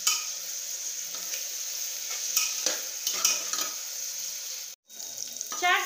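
Sliced onions frying in a pan for a dhaba-style tadka over medium flame, a steady close sizzle broken by scraping stirs and a short pause.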